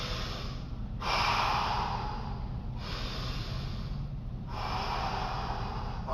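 Heavy, loud breaths of a person recovering after martial arts drills, three long broadband exhalations with short pauses between them, close to the listener over a steady low background hum.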